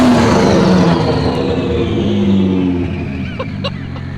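Loud, close engine roar from a JZ-swapped BMW out on a test drive, the revs climbing and holding for a few seconds before easing off, with a little background noise near the end.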